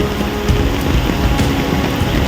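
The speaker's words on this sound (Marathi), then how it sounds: "इकडे हा पाण्यातून चालतोय मी" Someone wades through floodwater on a road by a highway where runoff has flooded homes, with continuous sloshing and splashing and a few heavier surges as each step pushes through the water.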